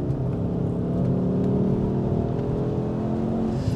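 A Mk2 Ford Focus ST pulls out of a corner under power, its engine a steady, droning rise heard from inside the car. The engine note is sustained and even throughout, with no talk over it.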